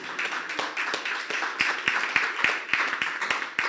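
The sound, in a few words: colleagues clapping at annual general meeting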